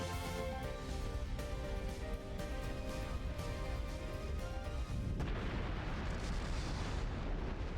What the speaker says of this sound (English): Action hero explosion!